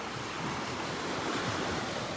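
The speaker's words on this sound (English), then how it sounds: "the waves are awesome" Ocean surf at Delnor-Wiggins beach on a morning walk, a constant loud wash of breaking waves mixed with wind buffeting the microphone, no voices.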